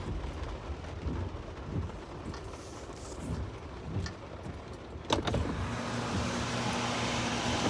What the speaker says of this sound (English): the rain is overwhelming and it was soaking me